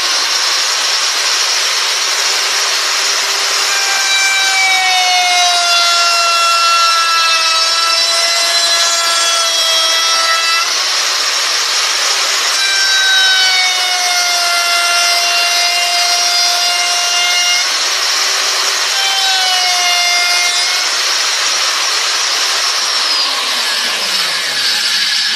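A hand tool cuts steadily into wood while carving a fiddle, a continuous close rasping scrape with squeaky tonal whines that rise and fall, running without a break and without talk.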